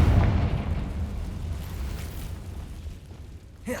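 Confringo fire spell blast from Hogwarts Legacy, a loud booming burst at the start that rumbles and decays over several seconds, with a small crackle near the end.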